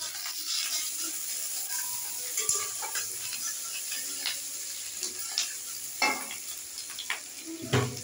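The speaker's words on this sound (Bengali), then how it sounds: "পেঁয়াজ এবং আদা রসুন, দেখতে পাচ্ছেন জাস্ট হালকা ভাজা হবে 1-2 মিনিট।" Onion, ginger and garlic frying lightly in a pan for a lemon chilli chicken dish. A soft, low sizzle sits under intermittent scraping and knocking stirs that grow a little louder toward the end.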